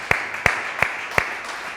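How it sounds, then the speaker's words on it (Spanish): Clapping from a church congregation: four sharp, evenly spaced claps at a steady beat, fairly faint over a quiet room background. "Un aplauso a Él."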